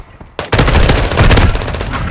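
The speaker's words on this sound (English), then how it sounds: "Taking fire." A sudden burst of close, loud automatic gunfire in Modern Warfare 2 erupts after a brief quiet moment, dense rapid shots continuing to the end.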